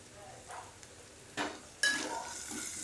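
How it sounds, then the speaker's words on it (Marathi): Onion-garlic masala with coriander powder, turmeric and chutney roasts in a pan, producing a soft sizzle with a few scraping stirs that grows louder toward the end, close and without speech. "सगळं भाजून घेऊया"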